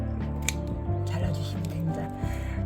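Scissors cut through plant pot material while houseplants are repotted on a home balcony, giving a few crisp close snips under ongoing talking.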